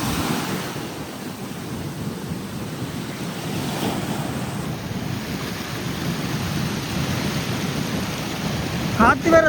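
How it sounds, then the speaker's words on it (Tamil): Rough sea waves crash and wash ashore during a low-pressure storm surge, a steady loud rush of surf mixed with strong wind noise on the microphone. "என்ன அலை இப்படி இருக்குது"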